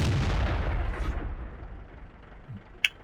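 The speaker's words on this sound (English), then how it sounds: "a T-29, who looks like he's firing HE at the guy." A tank firing high-explosive shells in the video game World of Tanks: a heavy booming blast that decays into a long rumbling tail, then a single sharp distant crack near the end.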